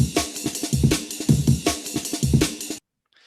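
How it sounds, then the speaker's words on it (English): Amen break drum loop sped up to 160 BPM in jungle style, punchy kicks, snares and cymbals hammering in a fast rhythm for under three seconds before cutting to silence. "our sonification speeds up the Amen break to 160 beats per minute"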